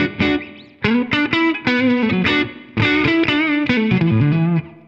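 An electric guitar played through a ToneX One amp model on its clean setting rings out in a quick series of strummed chords and single notes, loud and close, with no voice present.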